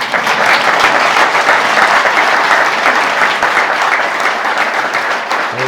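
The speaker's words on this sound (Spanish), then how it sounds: "Un aplauso para él, por favor." A studio audience breaks into loud, sustained applause, dense and even clapping from many hands that fills the room without a break for several seconds.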